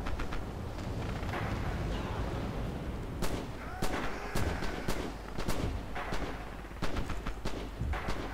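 Machine-gun fire in the World War II shooter Red Orchestra 2 rattles in dense, rapid bursts over steady battlefield rumble, with sharper nearby shots cracking out in the later seconds; no voice is heard.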